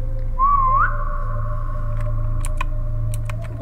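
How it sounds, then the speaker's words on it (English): A short rising-and-falling whistled tune inside the Roblox IKEA game, sounding once near the start over a steady low game hum, with faint clicks and ticks afterward. "Oh, someone's whistling down there."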